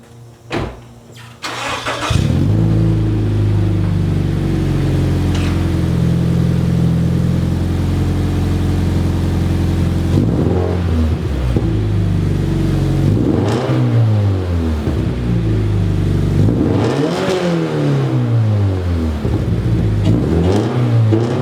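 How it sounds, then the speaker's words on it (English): A Scion FR-S/Subaru BRZ fitted with DC Sports equal-length headers starts up, settles into a loud steady idle, then is revved several times in sharp rising and falling bursts, close to the exhaust with no talking. "So this is gonna be just a quick little exhaust sound."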